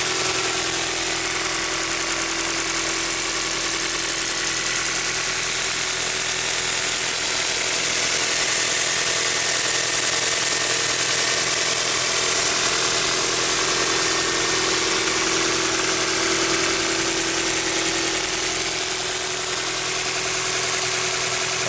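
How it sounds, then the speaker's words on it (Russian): A Kia G4FG petrol engine from a 2012–2018 Ceed idles steadily at close range, a continuous even hum with a faint vibration and no speech throughout. "Работа двигателя на холостом ходу."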